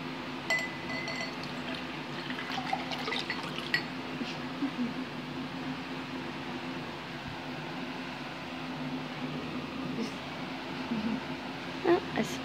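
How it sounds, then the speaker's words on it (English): Water poured into a container while preparing to add soap, a quiet trickling and filling sound with a few light clinks, with faint voices in the background. "So who's gonna pour in the water?"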